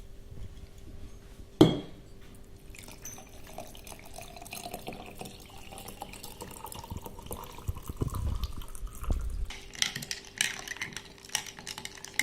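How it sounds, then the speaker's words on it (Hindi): Water is poured into a glass of mint lemonade with grated ginger and lemon slices, a faint splashing trickle set among soft clinks of glass and spoon. "अब इसमें थोड़ा सा पानी डालेंगे।"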